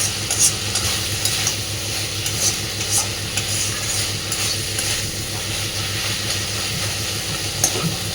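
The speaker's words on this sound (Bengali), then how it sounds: "আমি আরও খানিকক্ষণ এটাকে এইভাবেই নাড়াচাড়া করতে থাকবো, তাতে করে যত এটা ভাজা ভাজা হবে" Steady oily sizzling of dried Bombay duck fish frying in oil, with repeated scraping and stirring strokes from a spatula against the pan, close and continuous, no voices.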